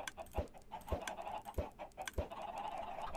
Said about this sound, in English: My chickens are running away.